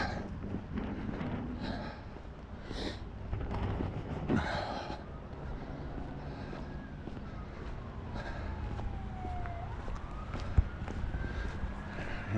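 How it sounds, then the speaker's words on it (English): A siren wails in the distance, its pitch sliding down and rising again, faint against wind and street noise. "here's sirens."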